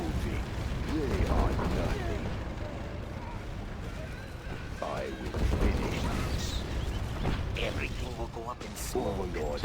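Gatling and Dragon tanks fire in the Command & Conquer Generals Zero Hour game: rapid gunfire bursts, cannon blasts and mechanical battle effects come in repeated waves, with a voice talking over them.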